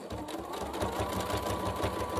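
A sewing machine stitching along the edge of a purse, backstitching back and forth: a steady, fast mechanical whir with a regular pulsing rhythm, close and continuous throughout.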